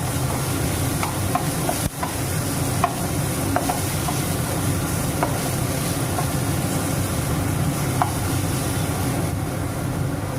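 Stirring moringa flowers frying in a little oil over a gas flame, with a steady close sizzle throughout and scattered faint scraping ticks from the spoon against the pan.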